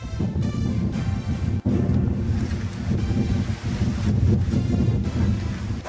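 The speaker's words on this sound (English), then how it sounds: "Outside, the wind had got up, which was creating a few problems." Wind blowing hard outdoors, a loud, steady buffeting roar across the microphone with brief gusty dips and no voices.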